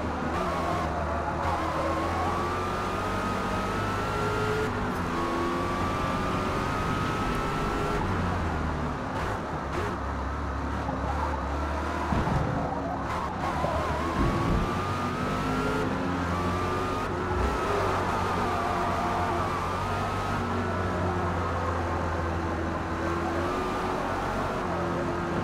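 Engine of a Dodge Challenger in the racing game Forza Motorsport on the Road America circuit, a loud sustained drone with the pitch rising and falling through gear changes and corners.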